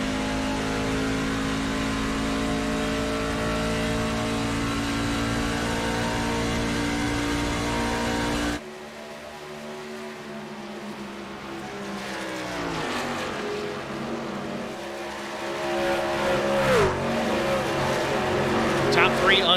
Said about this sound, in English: you just hear how long they're wide open throttle down into turn 1